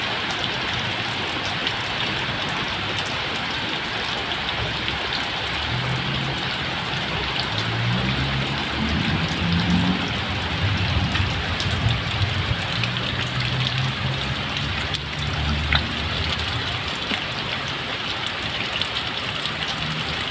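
The first rain of the year falls on a home vegetable garden as a dense, steady patter and hiss, with a low rumble underneath and no voices.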